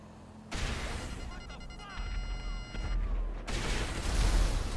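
A Chernobog missile launcher fires rockets in GTA 5 Online, giving a loud barrage of bursts and rumbling blasts that swells and continues throughout, with a voice speaking faintly beneath.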